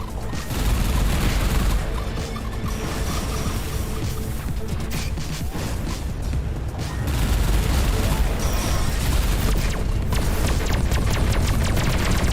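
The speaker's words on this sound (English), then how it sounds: "Dodge out of the way of that explosion, because nobody likes to blow up instantaneously." Explosions and missile fire from the space combat game Everspace 2 sound as a dense, loud barrage of booming blasts and rapid gunfire, continuous and close throughout.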